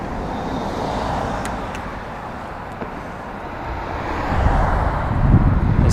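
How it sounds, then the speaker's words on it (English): Midday traffic on a three-lane road passes a commuting cyclist: steady car rumble and wind buffeting, swelling louder near the end as a vehicle draws close. "A lot of cars, it's midday."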